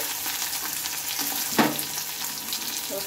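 Onions added to a hot pan with black cumin (kalo jeera) sizzle and fry steadily, with a brief louder crackle near the middle as they hit the oil; no one speaks.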